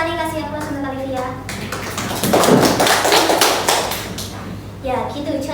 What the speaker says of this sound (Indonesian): kasih aplaus untuk Olivia.